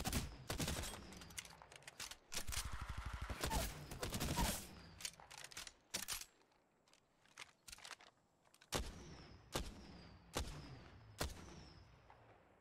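Rapid bursts of gunfire from Volt and Triple Take weapons with swapped fire rates in a video game: a fast stuttering rattle early on, then separate sharp shots spaced about a second apart, loud and close.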